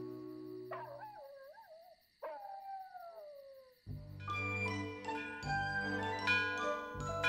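An animated orphan dog howls twice in long, wavering, sliding cries, close and clear, and then cheerful music starts and carries on to the end.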